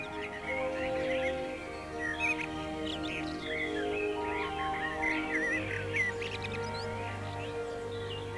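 Young robins chirp and twitter in a garden, thin high squeaky calls scattered throughout over a constant low mechanical hum, fairly close and continuous.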